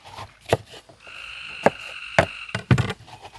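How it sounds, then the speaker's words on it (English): Tree frogs croak all around in the countryside, clicking and rattling calls in a few sharp bursts with short pauses, fairly close, alongside a steady tonal chorus. "We got tree frogs all around us. Listen to that, ain't that crazy?"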